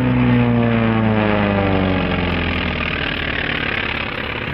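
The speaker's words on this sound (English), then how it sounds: "Here comes Todd in the T-28." A T-28 aircraft passes overhead at an airshow over water in Dillon, Colorado, its propeller engine a loud, steady droning roar whose pitch slowly falls as it flies by.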